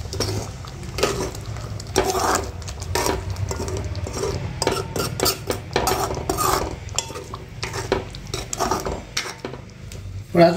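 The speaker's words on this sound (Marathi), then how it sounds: "छानपैकी हलवून घेऊयात" A spoon stirs brinjal curry with a thin, watery gravy in a metal pan, giving repeated irregular scrapes and clinks close by, in bursts throughout.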